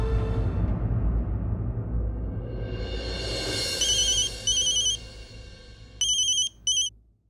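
Electronic telephone ringtone trilling in repeated short bursts, loud and close, after a low rumbling background fades out; no talking over it.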